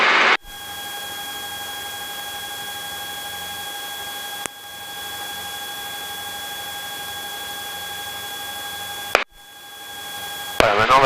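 A Robinson R22 helicopter in flight, heard from inside the cockpit as a steady, loud whine and rotor drone with constant tones, interrupted by a few brief clicks.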